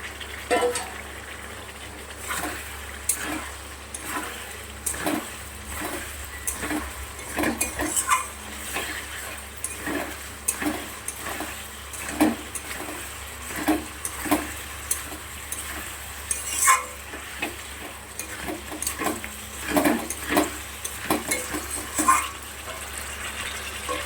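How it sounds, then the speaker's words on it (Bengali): Cauliflower stirred into a spiced potato curry frying in a pan, with repeated clinks of a spoon against the metal and a steady sizzle underneath. "এবারে আমি ফুলকপিগুলো দিয়ে দিচ্ছি।"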